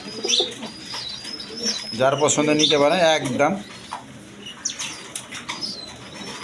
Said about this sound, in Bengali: খুব ভালো জাতের কবুতর এটা